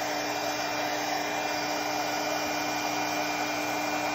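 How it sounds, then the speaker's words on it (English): Continuous loud whirring blast of a heat tool used to heat-set ink, a steady fan-driven hiss with a constant motor hum that never breaks. "I'll go ahead and heat set these as well."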